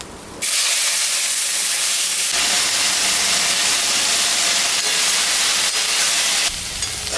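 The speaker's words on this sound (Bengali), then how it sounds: "আলুটা লাল লাল করে ভাজা করে নিয়েছি" Potatoes sizzle in hot oil with cardamom, cinnamon, dried red chilli and cumin, a loud continuous hissing fry that starts abruptly and stays steady for several seconds before easing.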